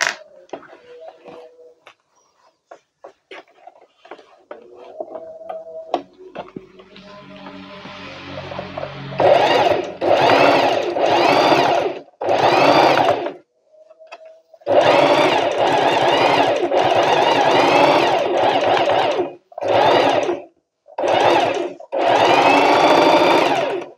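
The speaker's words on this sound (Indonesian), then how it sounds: "Yang ini juga satu lagi kita jahit." A sewing machine stitches a smokring curtain in loud, close whirring runs of a few seconds each, separated by brief pauses, after softer handling noises at the start.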